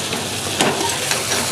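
Okra masala sizzles steadily in a pan while being stirred, a constant close frying hiss with brief scraping bursts of the spoon.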